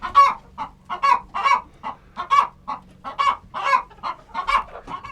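Several chickens cluck in a coop, a close, lively run of repeated short clucks and calls in an uneven rhythm with no talking.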